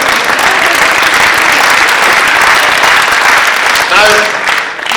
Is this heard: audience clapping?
yes